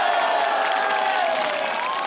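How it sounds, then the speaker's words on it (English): A golf gallery at the MBN Ladies Open, a KLPGA tournament, cheers and applauds a player's first tournament win, a dense and sustained roar of claps and shouts with a few whistles rising above it. "And the reaction from the crowd."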